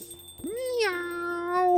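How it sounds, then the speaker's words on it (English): A cat in the Coffee Talk video game gives a single clear, rising and falling meow, close and loud, with a steady tone holding underneath. "If I'm not mistaken, this is a local cat."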